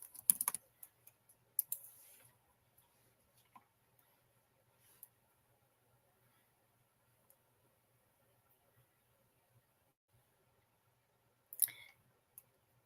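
Typing on a computer keyboard: a quick burst of key clicks at the start, scattered single taps through a long quiet stretch, then another short flurry near the end, faint and close.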